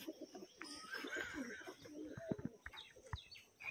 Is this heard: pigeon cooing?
yes